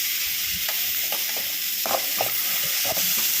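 Curry leaves sautéing in a frying pan give a steady, close sizzle and hiss, broken by soft stirring scrapes and taps, with no voices.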